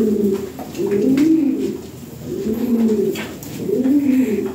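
Pigeons kept in pairs for sale coo loudly and close by in three rolling, rising-and-falling phrases, one after another with brief dips between, no voices present.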